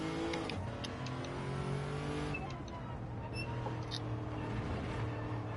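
In Gran Turismo 7, a turbocharged Toyota 2JZ inline-six engine of about 838 horsepower revs and pulls through the gears at low level, with shifts heard as rising and falling engine tones and no voices.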